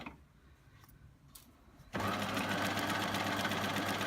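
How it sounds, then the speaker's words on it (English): A sewing machine runs steadily, stitching a curved seam on cotton boxer shorts; after a quiet start with faint handling, the motor whirs in loud, continuous and close for the last two seconds. "you just continue on sewing over that seam and following the curve"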